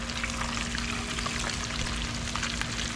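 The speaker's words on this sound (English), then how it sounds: "Alright guys, we got Sang frying it up outside." Flounder from the Chesapeake Bay frying outdoors in hot oil, a loud continuous sizzle with crackling pops and a faint steady hum underneath.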